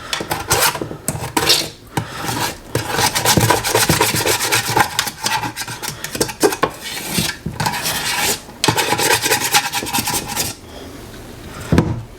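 Burnt-on grime scrubbed off the bottom piece of an air fryer, producing a close, continuous harsh scratching and rasping in quick back-and-forth strokes with a few brief pauses and no talking.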